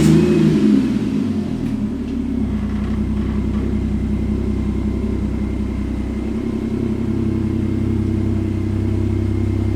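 A Ford Falcon FG Turbo being driven, its engine humming with a deep steady rumble that swells slightly as it revs, close and continuous with no talk.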